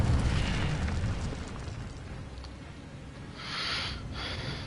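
Incendio fire spell cast in Hogwarts Legacy: a rushing, fiery whoosh at the start, then a quieter stretch, then a second short flaring burst of flame near the end.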